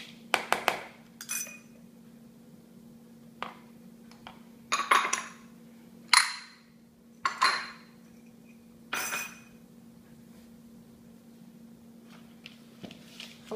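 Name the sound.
mixing oat cookie ingredients in a bowl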